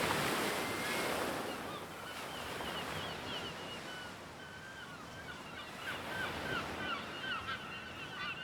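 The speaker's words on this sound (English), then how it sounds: "The ocean? I reached the coast." Ocean waves wash onto the coast in a steady rushing surf, with wind noise and honking geese or other birds calling intermittently over the roar.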